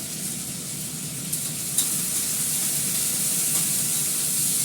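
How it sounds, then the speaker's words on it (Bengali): Vegetables fry with salt in a pan, giving a steady, close, bright sizzle that continues without pause, with a couple of faint clicks of a utensil against the pan. "দেবো নুন, নুনটা দিয়ে আমি ভালো করে ফ্রাই করবো"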